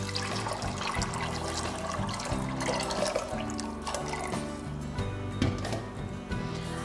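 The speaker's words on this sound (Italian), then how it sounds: "nella pentola versiamo questi fagioli freschi, ricopriamo di acqua fredda" Cold water poured from a tap into a pot of fresh beans, a steady splashing and rushing that runs continuously throughout at moderate volume.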